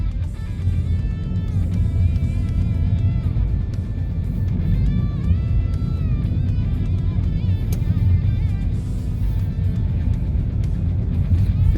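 Inside a 2021 Hyundai Elantra driving in traffic, a low steady road and engine rumble fills the cabin, with a faint music-like tonal layer over it and no talking.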